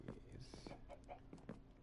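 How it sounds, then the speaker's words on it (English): Chickens cluck in a video game, faint and soft, with a few short clucks over low background noise. "I can hear the chickens."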